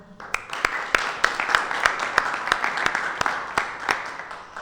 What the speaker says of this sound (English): And we give a round of applause